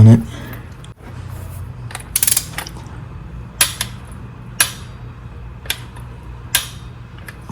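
A ratchet tightens a spark plug on a BMW 328i, giving short sharp metallic clicks at spaced intervals over a quiet low hum.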